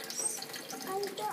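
Water runs from a tap over a person's hands with a soft, steady splashing hiss. It is quiet and fairly close, with faint voices in the background.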